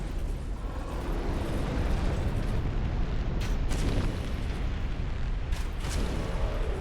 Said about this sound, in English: Fire breath of some kind.